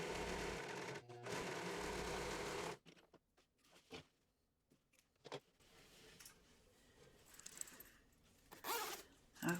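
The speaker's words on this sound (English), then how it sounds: "I'm going to unzip my zipper all the way down" A zipper on a sewn expandable tote bag is pulled open in one loud, continuous rasp, followed by quiet scattered clicks and rustles of handling in a sewing room.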